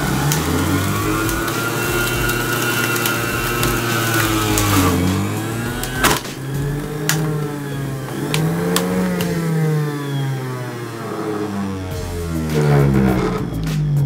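An electric juicer running at its first speed makes a close motor whine whose pitch swells and dips as it works, punctuated by a few sharp knocks, with no speech.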